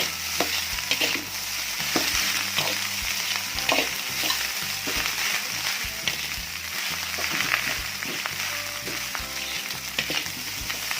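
Spicy Indonesian fried rice, nasi goreng with one packet of seasoning stirred in, scraped and tossed in a hot pan. A loud, continuous sizzle is broken by repeated rhythmic clanks of the spatula against the metal, with no talking.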